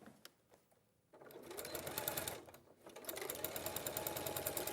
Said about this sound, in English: we're going to sew down this one as well